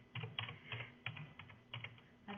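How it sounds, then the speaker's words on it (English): Someone types a word on a computer keyboard, a quick irregular run of soft key clicks, close but quiet, with no voices. "I could type that word in"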